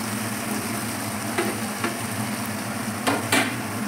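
Paneer frying in a pan with tomato and capsicum, a constant close sizzle with occasional spoon taps and scrapes against the pan.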